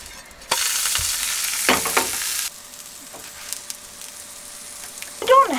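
Food sizzles in a frying pan on a narrowboat stove, a loud steady hiss broken by stirring and scraping sounds, with brief clinks near the end.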